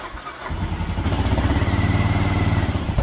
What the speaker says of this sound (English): All right, first start in the big bore kit.